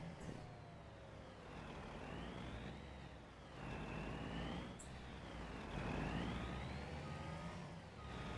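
A heavy lorry engine in the video game Farming Simulator 25 drones steadily, its pitch rising and falling in slow waves as it revs, with a faint whistle-like tone riding on top.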